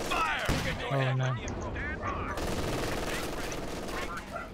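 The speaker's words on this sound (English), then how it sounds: "We're taking effective fire." Video game gunfire crackles in rapid bursts and sustained automatic fire beneath excited voices from players talking over the shooting.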